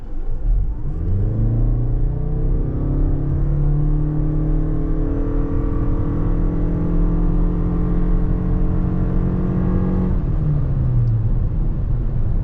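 A 2023 Toyota Crown XLE with a run-in engine accelerates hard, its engine note climbing steadily in pitch through a long pull, then dropping off sharply as the throttle lifts, loud and close with no talk.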